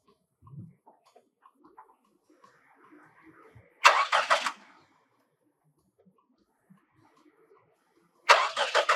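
A car engine is cranked in two short bursts, each a loud, rough churning attempt to start, separated by several seconds of near silence with faint scattered small noises.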